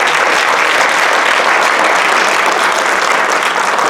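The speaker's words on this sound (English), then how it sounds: "And so one more round of applause for our..." A dense, steady round of applause from an audience at a kindergarten graduation ceremony, loud and sustained for the whole stretch, with no voices standing out over the clapping.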